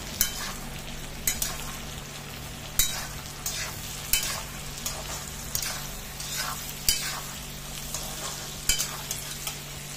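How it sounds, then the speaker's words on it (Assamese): Boiled jackfruit with turmeric fries in a pan, a constant sizzle broken by repeated sharp scrapes and knocks of a spoon stirring at an irregular rhythm, close and moderately loud. "এয়া মই গোটেইখিনি ভালদৰে ভাজি ল'লোঁ"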